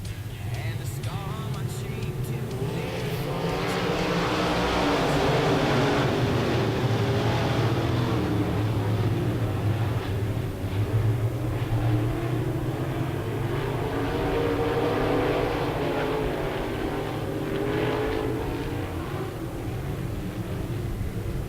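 IMCA Modified race cars roar around RPM Speedway in a B feature race, a loud, continuous engine drone that swells as the pack passes and then holds steady.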